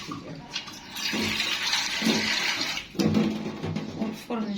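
Tap water pours steadily into a cooking dish in a home kitchen, a close continuous splashing rush with brief dips and surges as the flow shifts.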